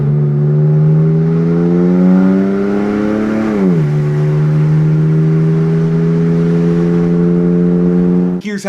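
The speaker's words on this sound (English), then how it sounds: "here's how the adjusted like sort of enhanced audio sounds" Exhaust drone of a Porsche car while driving, a loud steady harmonic-rich engine tone that climbs slightly, dips with a gear change, then holds steady before a brief clatter near the end.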